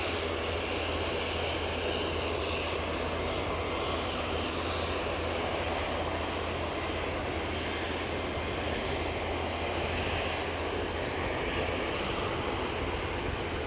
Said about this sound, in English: Striding forward with purpose is this ATR.